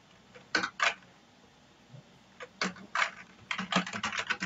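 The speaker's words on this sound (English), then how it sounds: "Then type your admission number here." Computer keyboard keys are typed in short bursts, a few isolated clicks, then a pause, then a quicker run of keystrokes close up in a quiet room, with no talking.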